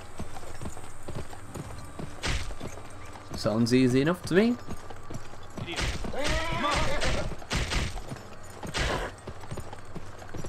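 Rhythmic hoofbeats of a galloping horse in the Western video game Gun, steady and fairly loud throughout, with a horse whinny partway and someone talking over it.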